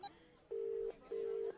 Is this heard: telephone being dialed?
yes